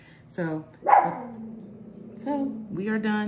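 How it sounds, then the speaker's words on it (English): Pet dog barking indoors, a few sharp barks and yips near the microphone, mixed with a person speaking briefly. "That's my dog right here."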